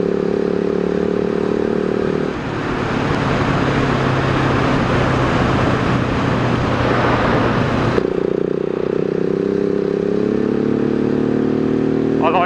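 A 2018 Husqvarna 701 SM supermoto motorcycle being ridden, its single-cylinder engine droning steadily with gear-change shifts in pitch and a burst of rushing wind noise in the middle, recorded from the bike.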